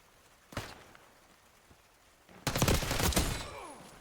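Close-range gunfire in Black Ops 6 ranked play: one sharp shot, then a dense, loud burst of rapid fire that tails off into smaller clatter.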